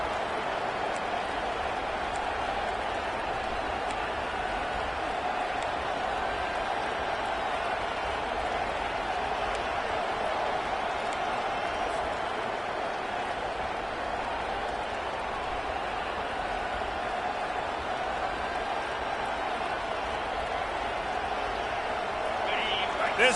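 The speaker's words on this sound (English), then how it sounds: "This crowd trying to make life miserable for this offense." A steady roar from a packed stadium crowd at a Clemson vs. South Carolina football game holds an even, distant wash of noise throughout, with a commentator's voice running over it.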